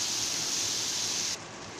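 Mandeli fish fry on a hot tawa over a high gas flame, giving a loud, close, steady sizzle. The sizzle drops suddenly toward the end, with no talking.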